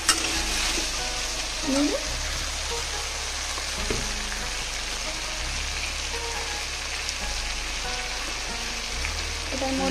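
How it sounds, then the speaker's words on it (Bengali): Fried taro pieces stirred in a hot pan, a steady sizzle of frying oil with scraping spoon strokes against the pan throughout, close and fairly loud, with a brief word spoken once. "এটার মধ্যে আমি এখন কচুগুলো ভেজে নিয়েছি। এগুলো নেড়ে চেড়ে"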